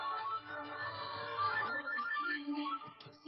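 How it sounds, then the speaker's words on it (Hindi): A soft melodic phone ringtone plays on its own, a faint tune of electronic notes that wavers in pitch. "आपका फोन बज रहा है।"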